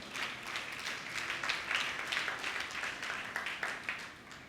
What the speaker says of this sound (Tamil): கைத்தட்டி ஆண்டவரை மையப்படுத்துங்க பார்க்கலாம்.